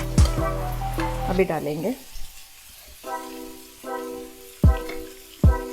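Onions sizzle and fry in a pan for egg masala, a steady loud crackle at first, then quieter with sharp stirring clicks at intervals while someone speaks briefly.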